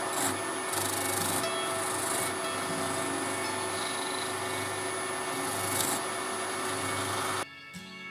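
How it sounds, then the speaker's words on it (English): A turned apricot wood cup gets its final buff on the lathe, a steady close whirring rub with a hum beneath, fairly even until it drops and quiets near the end. "Now to finish with the final buff."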